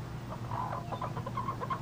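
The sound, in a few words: chickens clucking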